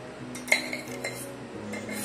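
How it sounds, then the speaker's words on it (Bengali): Squeezed cabbage being stirred together with ghee-fried onion, garlic, chilli and ginger: a spoon clinks and scrapes against a bowl in several light, close knocks, with no talking. "এবার আমি যে বাঁধাকপিটা জল চিপে রেখেছিলাম তার মধ্যে ঘি দিয়ে ভেজে রাখা পেঁয়াজ রসুন লঙ্কা আদা সব এটার মধ্যে মিশিয়ে দিচ্ছি।"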